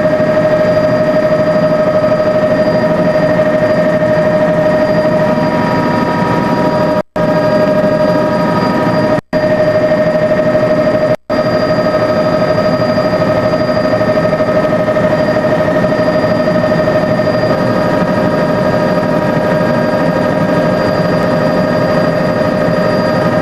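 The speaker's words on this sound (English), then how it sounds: "We're in the helicopter." Helicopter flight from the front seat during a 1994 trip to Zion and Bryce, a steady loud rotor and engine drone with a constant tonal whine, broken by a few brief dropouts.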